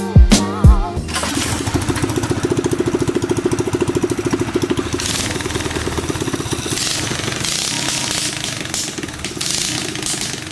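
A drift trike's small engine sputters and backfires with loud sharp pops, then settles into a steady, loud, throbbing idle that runs on close by without talk.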